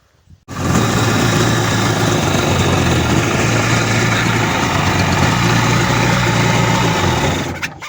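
A jet ski engine being run during a diagnostic check, starting after a brief quiet moment and then holding a loud, steady idle close by until it tapers near the end, with no talking.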